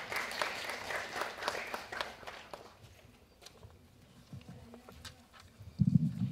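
Light applause from a forum audience greeting a professor before a keynote on sustainable development goals, scattered claps in the first few seconds that fade into a quiet room.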